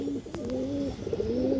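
Khaki pigeon of an old bloodline coos in a steady, low, wavering call, close by and fairly clear over faint background noise, with no talking.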